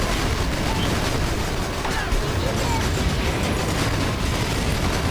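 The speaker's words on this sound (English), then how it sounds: "So are my artillery going to shoot at that thing anytime soon? Or are they getting blown up?" Artillery fire and explosions in the video game Battalion Wars 2 form a dense, continuous roar of booms and bursts, loud and unbroken.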